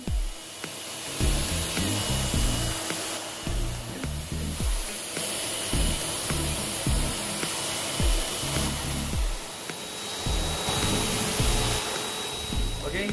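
A hair dryer blows steadily on a cat's wet fur after a bath during grooming, a continuous loud whooshing airflow with shifting pitch and rhythmic lower rumbles as the dryer moves, with no pauses across the whole stretch.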